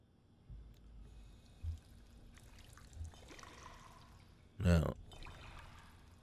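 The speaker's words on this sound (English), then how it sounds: "I fill every bottle because it's all purified water" Bottles being filled with purified water in the video game Fallout 4: a soft pouring and trickling wash over a low rumble, with a few thuds and one louder splashy burst near the end.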